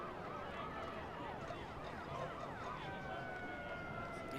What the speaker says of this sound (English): You hear the sirens.